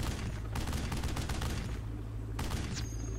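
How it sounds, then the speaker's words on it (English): Rapid gunfire with bullet impacts from the shooter game Hunting Fields of Jackals, loud dense bursts crackling almost continuously over a low rumble, with a short pause before another volley. "So I have bullet impacts there."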